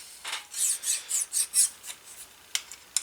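Sandpaper glued to a wooden block rubs over a vintage cobbler hammer in a run of quick, rhythmic rasping strokes, close and fairly loud, followed by a few lighter, scattered scrapes.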